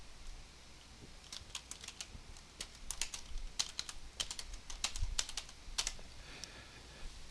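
Quiet, close keystrokes on a computer keyboard, irregular clicks in short bursts over a soft room hum, with no talking.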